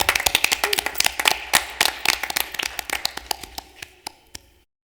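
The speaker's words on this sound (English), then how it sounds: "let's give a round of applause to recognize her for this achievement" A small group claps at a school board of education meeting, sharp separate hand claps in a brisk burst that thins out and stops after about four seconds, close and fairly loud, with no talk over it.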